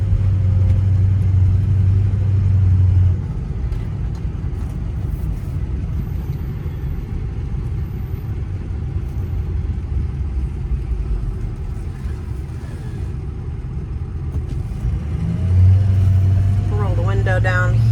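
A steady low engine rumble from a 2003 Ford F350 Powerstroke diesel dually pickup, heard from inside with the window down, deep drone pulsing louder at the start and end.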